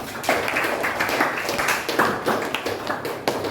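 Students in a classroom clap together in a short burst. The claps are close and uneven, with several sharp individual hits in a brief patter lasting a few seconds.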